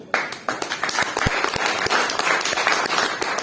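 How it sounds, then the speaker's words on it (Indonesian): Guests at an anniversary gathering of an anti-narcotics foundation in Medan applaud after the mayor's remark, a lively crowd of hands clapping with some sharp, distinct claps standing out, steady and fairly near. "Tepuk tangan untuk itu."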